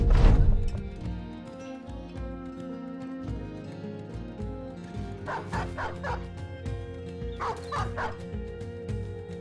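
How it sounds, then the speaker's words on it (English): Dogs yip and bark while eating in Battle Brothers, over steady music, with excited bursts of yapping in the middle and near the end. "Those dogs are just playing with their food."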